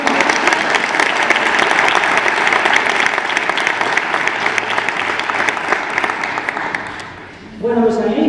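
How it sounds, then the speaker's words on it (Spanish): Loud, dense applause from an audience at a fantasy festival interview event in Valencia, sustained and even for several seconds before fading out, after which a voice begins speaking. "Pues vamos a dar una aplauso."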